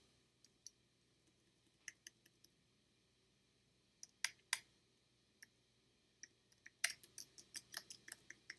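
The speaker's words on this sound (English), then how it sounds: "I'm just typing" A computer keyboard is typed on in sparse, irregular clicks at first, then quicker clustered keystrokes toward the end, close and fairly quiet in a still room.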